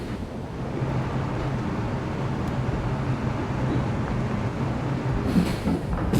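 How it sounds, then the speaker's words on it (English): A subway train in World of Subways rolls toward a station with a steady, low rumbling drone, a continuous close roar of wheels and motion running evenly throughout and a faint metallic rattle near the end. "This is a 33rd Street train. And there we go, there's the station ahead."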